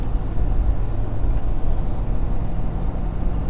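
A 2020 Ford Super Duty Powerstroke diesel truck hauling a load of logs rumbles steadily at light throttle, a low continuous engine drone heard from inside the cab with no talking.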